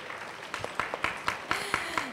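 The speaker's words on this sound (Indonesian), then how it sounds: "beri tepuk tangan untuk Kanoni" A small audience at an educational class claps for a participant: sparse, evenly spaced individual claps, moderately distant and fairly quiet.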